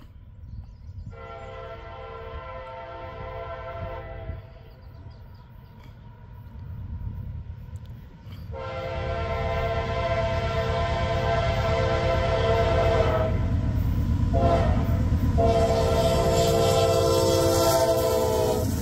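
A CSX freight train approaches outside Lagrange, Ohio, sounding a loud, sustained multi-note horn in two long blasts with a short break, while rumbling wheels grow louder as it draws near.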